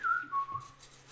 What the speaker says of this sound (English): while I'm waiting and whistling